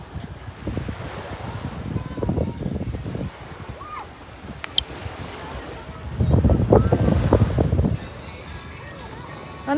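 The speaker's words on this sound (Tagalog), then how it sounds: "Sarap na hangin dito." Sea wind gusts across the microphone while surf waves wash in at a fishing spot on the shore. The rushing swells and fades in bursts, with voices talking faintly in between.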